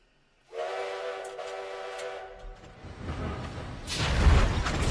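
The Polar Express steam train in a film sounds a loud, sustained whistle of about two seconds, followed by a building rumble of the running train that swells toward the end.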